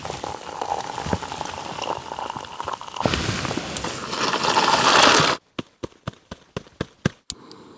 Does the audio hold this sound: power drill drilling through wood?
no